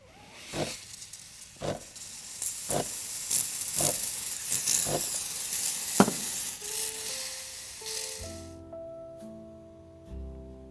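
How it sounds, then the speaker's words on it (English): A Breville Bambino espresso machine's steam wand steaming milk, a close continuous hiss with rhythmic sputtering bursts as the wand surfaces, then a cutoff followed by a low machine hum and faint tones. "just remember to wipe and purge the wand right after steaming every time."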